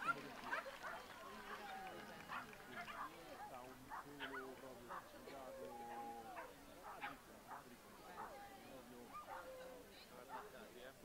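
A King Charles Spaniel at a dog agility speedstakes event yips and barks repeatedly through the clip amid a noisy crowd murmur, the barks fairly close and rhythmic, with voices chattering in the background.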